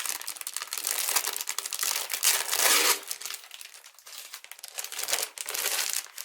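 Decorative patterned craft paper from a Rosie's Studio Forget Me Not collection is handled during an unboxing, giving close, loud, continuous crinkling and rustling with brief pauses and renewed bursts. No voices are heard.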